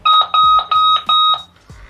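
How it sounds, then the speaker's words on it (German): A loud alarm clock beeps at full volume, close and piercing, in regular pulsing bursts of a high electronic tone that stop after about a second and a half. "Hier ist der Wecker. Da volle Pulle."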